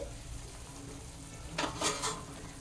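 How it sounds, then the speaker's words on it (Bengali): Green apple chutney starts to bubble in an uncovered pan just after the lid comes off. A low, steady simmering hiss runs throughout, with a few brighter bursts of sizzling bubbling near the middle and no voices. "দেখো কি সুন্দর আপেলগুলো ফুটতে শুরু করেছে।"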